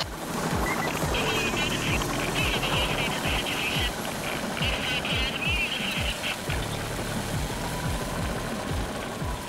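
In the Payday 2 heist game, a helicopter hovers while dropping supplies, its rapid rotor chop pulsing loudly and continuously under a dense mix of game noise and talk.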